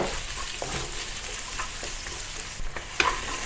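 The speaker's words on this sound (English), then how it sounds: "Saute the onions with the remaining oil." Onions sautéing in leftover oil in a wok, a soft steady sizzle with a few light stirring scrapes and a brief clatter near the end.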